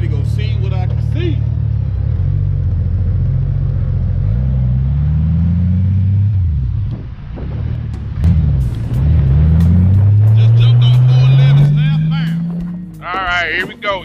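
A Honda GoldWing 1800 F6B motorcycle idles and then pulls away, its engine rumbling steadily and rising in pitch through gear changes, heard up close with wind buffeting and someone talking briefly at the start and end.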